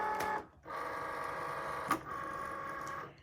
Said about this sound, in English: So I'm going to load the machine first.